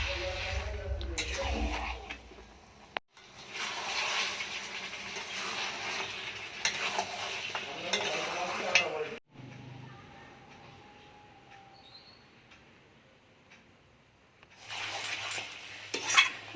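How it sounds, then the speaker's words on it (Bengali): Goat meat sautéed and stirred in a pan over a clay stove gives bursts of scraping and clattering stirs over a faint sizzle, with a quieter stretch midway before stirring resumes. "মাংসটা তো কষানো হয়ে গেছে এবার প্রেশার কুকারে দিয়ে দেবো"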